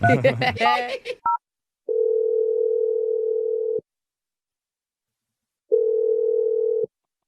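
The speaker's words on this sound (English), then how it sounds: "I'm dialing her number right now" A telephone line during an outgoing call: a brief talk-like burst and short blip at the start, then two steady, loud tones of about two seconds and one second separated by silence, like ringback on a dialed number.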